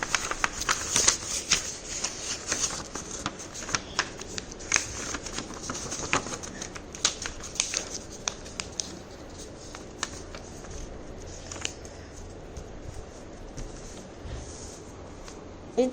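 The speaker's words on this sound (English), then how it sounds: "folding the rectangle into a triangle" Paper being folded into a triangle for a children's fortune teller, with close, soft crinkling and scraping rustles in irregular bursts throughout, and no talking.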